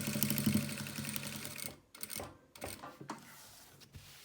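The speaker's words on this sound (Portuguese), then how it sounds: "agora eu vou passar uma costura aqui, tá? Em toda a volta da nécessaire" A sewing machine stitches around the edge of a fabric toiletry bag, a close rapid mechanical chatter that runs for under two seconds, then stops and gives way to a few short bursts.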